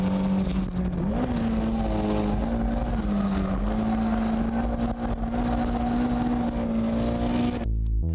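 An underpowered Toyota AE86 Hachiroku drifting, its engine held at high revs in one loud, steady, droning note for several seconds with slight pitch wavers before it cuts off abruptly.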